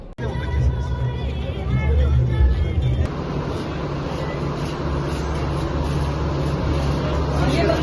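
A brand-new city bus in Diyarbakır gives off a steady, close engine rumble and broadband cabin hum throughout, with a soft murmur of voices in the background.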